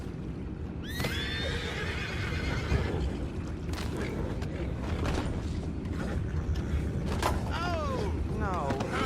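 Horses neighing and whinnying in Red Dead Redemption 2, several shrill whinnies over clip-clopping hooves, creaking and ambient bustle, with voices talking nearby.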